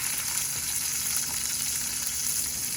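An ahi tuna steak sears on a hot Big Green Egg grill, giving a steady, close sizzle and frying hiss that runs evenly through the whole short stretch with no voices.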